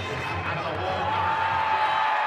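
Stadium crowd at a Missouri versus Vanderbilt college football game roaring after a touchdown, a steady distant wash of cheering under a commentator's voice.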